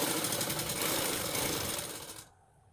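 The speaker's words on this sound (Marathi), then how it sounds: "याची गोलाईमध्ये शिलाई करून घ्यायची." A sewing machine stitches a blouse, giving a steady close whirring rattle of rapid stitches that slows and stops near the end.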